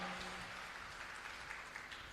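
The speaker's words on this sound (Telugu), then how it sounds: "గట్టిగా చప్పట్లు కొట్టండి గట్టిగా." Church congregation clapping loudly at a Christian service, a steady dense wash of applause throughout with no clear speech on top.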